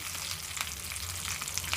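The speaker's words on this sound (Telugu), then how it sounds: "అయిపోయిందండి తాలింపు కరివేపాకు కూడా వేసేసుకున్నాను" A tempering of curry leaves sizzles in a pan, giving a steady, close, fairly faint hiss of hot oil frying that carries on without a break.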